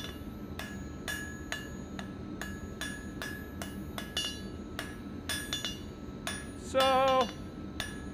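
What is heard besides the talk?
hammering hot metal on an anvil to forge a fire poker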